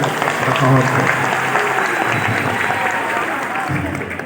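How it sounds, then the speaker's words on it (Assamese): An audience at a college event claps to welcome guests, a dense, close burst of applause that swells at the start and slowly thins out, with a voice speaking over it. "তোমালোকক মই পুনৰ আহ্বান জনাইছোঁ হাত তালিৰে তেখেতসকলক"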